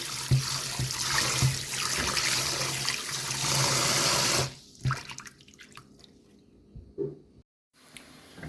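Running water pours steadily from a tap into a sink for several seconds, rinsing salted pork, then cuts off, leaving a few soft drips and clatters.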